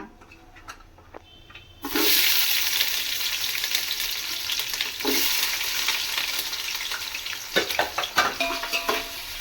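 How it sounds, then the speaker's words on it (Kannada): Sliced onions frying for chicken biryani, a loud steady sizzle that starts abruptly about two seconds in and continues with occasional crackles and stirring scrapes. "ಈರುಳ್ಳಿ ಮಾತ್ರ ತುಂಬ ಫ್ರೈ ಆಗಬೇಕು"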